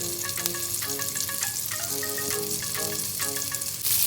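Mackerel fillets fry in hot oil in an Indian-style home kitchen, a loud continuous crackling sizzle close up, with music playing underneath.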